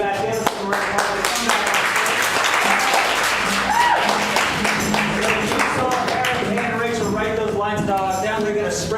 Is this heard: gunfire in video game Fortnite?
no